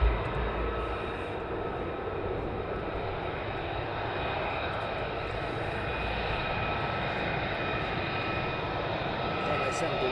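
F-35 fighter jets of the 495th and 493rd squadrons taxi at RAF Lakenheath, a steady broad engine roar and whine holding for the whole stretch without letting up, with people talking over it.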